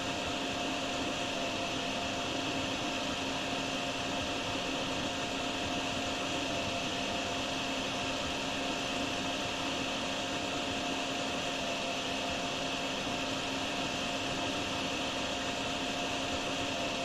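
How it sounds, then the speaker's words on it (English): Vacuuming water out of a flooded corridor in a video game, a steady, unbroken whirring drone with a constant high hiss that holds at even loudness throughout, with no voices. "we're going to slowly vacuum out the corridor of all of its water contents"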